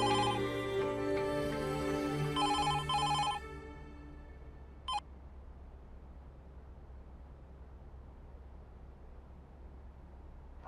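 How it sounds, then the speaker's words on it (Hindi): An outgoing phone call rings in a few repeated electronic tone bursts, followed by a sharp click of the line connecting and then a steady low hiss. "मैं अभी फोन लगाता हूँ"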